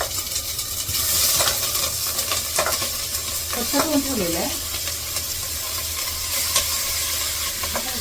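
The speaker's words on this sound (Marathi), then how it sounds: "चांगल्या तेल आणि बटरमध्ये जिऱ्याची फोडणी घालून चांगले परतून आहे" Mixed vegetables for pav bhaji sizzle steadily in oil and butter tempered with cumin, with a spoon stirring and scraping through them close up. Someone speaks briefly over the frying.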